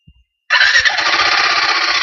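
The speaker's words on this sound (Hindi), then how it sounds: "अगर मैं गाड़ी को स्टार्ट कर दूं" A Royal Enfield Guerrilla motorcycle engine cranks briefly and then catches, settling at once into a loud, steady idle with a rapid thumping beat, heard close up after a brief silence.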